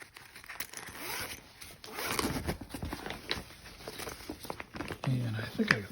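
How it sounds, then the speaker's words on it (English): A zipper is pulled open on a soft cassette storage case indoors, giving a long, faint rasping run with crinkly handling noise around it. "where the hell's the zipper?"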